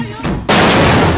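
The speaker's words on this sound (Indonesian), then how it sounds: "bom pun meledak" A bomb blast from a film sound effect bursts in loud and sudden about halfway through, a dense roaring explosion that stays full and sustained to the end.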